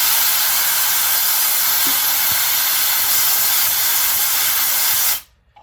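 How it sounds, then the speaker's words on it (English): Brake fluid sprays in a loud, steady hiss as a sticky caliper piston is forced out, running unbroken for about five seconds before cutting off abruptly. "You can see it's also blowing brake fluid back over my hand."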